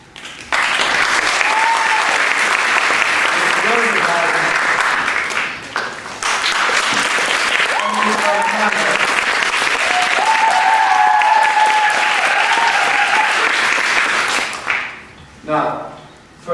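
A theatre audience applauds loudly for the Princess Puff during a musical performance, two long bursts of full clapping separated by a short dip, then tapering off as voices come in at the end.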